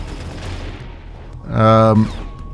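Vulcan gun in the sci-fi shooter The Outer Rim: Survivor, a single short burst of rapid fire with a buzzing, ringing tone about halfway through, set against steady game background sound.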